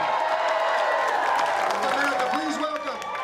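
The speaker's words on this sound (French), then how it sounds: "Allez, on l'applaudit" A large crowd claps and cheers in a steady, loud wash of applause for Hillary Clinton at a US political event, with shouts and voices mixed in throughout.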